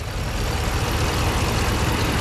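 A Hemi V8 with its MDS deleted and PCM unlocked idles on its first start, with an old oil leak cooking on the exhaust: a steady, close, low rumbling drone with no speech.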